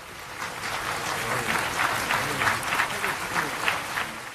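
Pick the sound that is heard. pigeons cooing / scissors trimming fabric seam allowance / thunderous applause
thunderous applause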